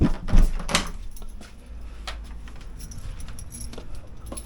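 Keys jangling at a house's front door while it is locked, a brief metallic rattle and clunk at the start, then light scattered clicks and handling noise fading into quiet ambience.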